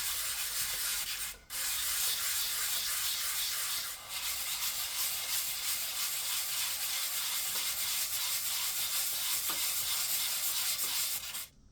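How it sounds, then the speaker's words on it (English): Steady abrasive scraping from filing and sanding filler on a 1/14 Tamiya Grand Hauler tri-drive day cab model truck, a continuous close rasp with brief pauses near 1.5 and 4 seconds. "now we're just going to file away, just nice and gently"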